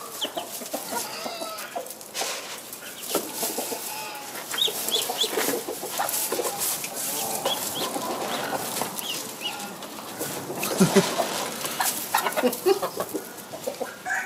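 Ducks being put to bed outdoors give off a busy mix of quacks, clucking calls and wing flapping, fairly close and continuous, with scattered louder bursts near the end and no talking.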